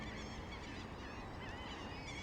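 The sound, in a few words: seagulls calling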